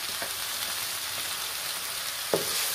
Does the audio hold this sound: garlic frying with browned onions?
yes